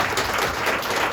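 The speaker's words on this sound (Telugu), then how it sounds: "చప్పట్లు కొడుతూ గట్టిగా దేవుడికి కనపరచండి" A church congregation in Kuwait claps together loudly, a dense, continuous burst of hand clapping filling a short moment.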